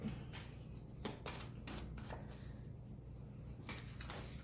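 A deck of yearly love reading cards being shuffled by hand, with repeated soft riffling bursts in an uneven rhythm, close up against a quiet room.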